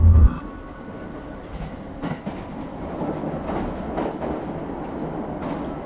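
Steady rumble of a Malaysian LRT train riding from Subang to Shah Alam, with low rolling wheel noise and faint rhythmic clatter running continuously, after a brief louder thump at the very start.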